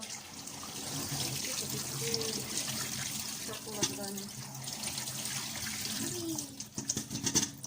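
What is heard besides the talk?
apples being washed under cold running tap water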